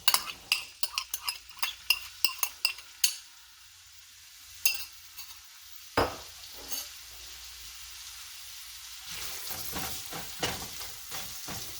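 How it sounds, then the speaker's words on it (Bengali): Chopped onion dropped into about a tablespoon of hot oil, a run of sharp clinks and spatula taps on the pan at first, then a quieter continuous frying hiss with occasional knocks. "এর মধ্যে প্রথমে আমি পেঁয়াজ কুচিটা দিয়ে দিব।"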